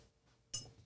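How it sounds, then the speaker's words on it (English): A cocktail mixing glass clinks once, sharply and close, as it is set down at a home bar, after a moment of quiet. "Got this mixing glass here."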